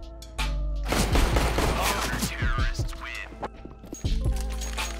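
Counter-Strike: Global Offensive gunfire rattles in rapid bursts of shots over steady game background noise, loud and close, with a player's voice talking over it.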